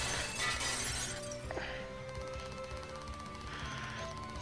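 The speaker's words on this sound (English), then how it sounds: "I guess the shattering part of it is a new mechanic they added to the game." Glass shatters with a bright crash in the video game Mirror, layered over a dense, busy game soundtrack that continues steadily after the break.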